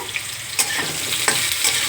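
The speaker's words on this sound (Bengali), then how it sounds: "এবার আমি এর মধ্যে কেটে রাখা সবজিটা আগে দিয়ে দিলাম, দিয়ে একটু নাড়াচাড়া করে নেব।" Steady sizzling of vegetables frying in hot oil, with a few sharp scraping stirs against the pan breaking through the hiss.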